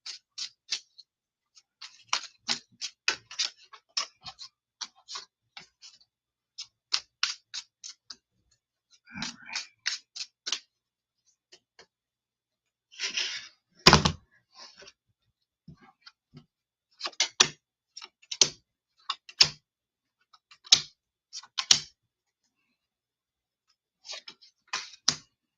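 Tarot cards being shuffled and laid out: bursts of quick flicking card riffles and sharp slaps as cards land, close and fairly loud, irregular across the stretch, with no talking.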